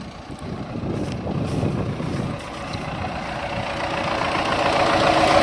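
A tractor engine runs steadily without misfires while harrowing ploughed ground, a continuous loud rumble with a low throb that holds level and swells slightly toward the end.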